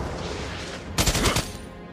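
A burst of rapid video game gunfire cuts in about halfway through, several quick overlapping shots at close range standing out loudly above a steady background bed.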